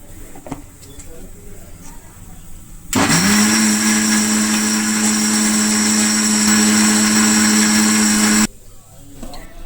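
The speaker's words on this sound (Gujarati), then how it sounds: "હજુ થોડું પાણી નાખીને સરસ પીસી લેશું." A kitchen blender grinds amla with water into a paste, a loud steady whirring drone that starts abruptly, holds for about five and a half seconds, then cuts off, with quiet background sounds before and after.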